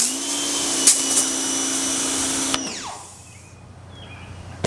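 An electric plug-in pressure washer spraying a Tesla Model Y: a steady motor whine with a hissing water jet that cuts off abruptly partway, the motor pitch winding down and leaving quieter background hiss.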